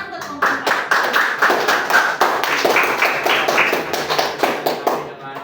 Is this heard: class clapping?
yes